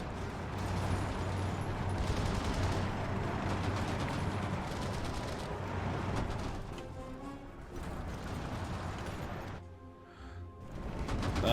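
Continuous battle din of massed gunfire and artillery in the Hearts of Iron 4 strategy game, fighting around Richmond, Virginia; a dense, steady roar of shots and rumbling explosions that thins out briefly near the end.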